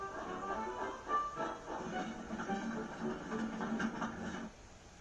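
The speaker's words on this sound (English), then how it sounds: "he steamed out of the sign and onto the main line" A steam train rumbles along steadily with clattering wheels and a hissing wash of noise, fairly loud, fading slightly at the end.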